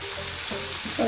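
Chopped ivy gourd (kovakka) hisses and sizzles steadily in a hot pan for a Kerala-style theeyal, with a loud, continuous frying crackle and a brief stir near the end.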